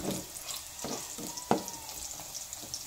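Tofu and alugbati greens sauté in a pan with a continuous sizzle and rhythmic stirring scrapes, including one sharper knock midway.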